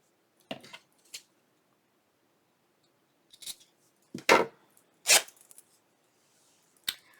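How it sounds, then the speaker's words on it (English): Several sharp, separate knocks and clatters of metal scissors set down hard on a table, irregularly spaced with quiet gaps between. "I know sometimes it gets real irritating to hear people banging their scissors and stuff down."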